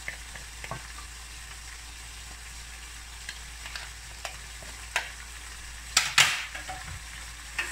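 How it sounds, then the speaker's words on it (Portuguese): Garlic frying in a small pan without oil, with a steady low sizzle and scattered utensil clicks and scrapes, one sharper burst of spatter near the end; no one speaks. "Vou colocar alho."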